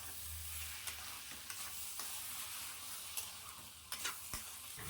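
Banana flower and chickpeas stir-fried in a pan, a steady broadband sizzle with scattered scraping clicks of a spatula stirring, moderately close and fairly quiet, no voices.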